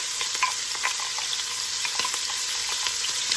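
A large yellow onion sautés in bacon grease, giving a bright, even sizzle close by, with light taps and scrapes of stirring dotted through; no talking.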